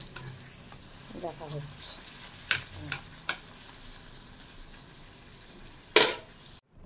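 Luchi frying in hot oil, a soft steady sizzle broken by occasional sharp splashes and clinks of a utensil, with a brief spoken voice partway through.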